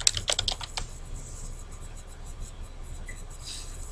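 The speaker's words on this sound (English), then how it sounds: "you need to type your name in there" A computer keyboard is typed on in short, crisp key clicks clustered in the first second, then the room falls to a faint hiss with only a stray tap afterward.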